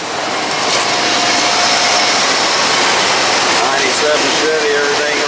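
Engine of a 1997 Chevy, all original with a fresh tune-up and new alternator, running steadily up close in a loud, dense roar, with faint voices beneath toward the end.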